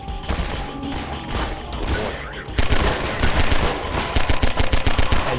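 Rapid gunfire in the video game Half-Life 2, loud bursts that build into a steady, evenly spaced stream of automatic shots, heard without voices.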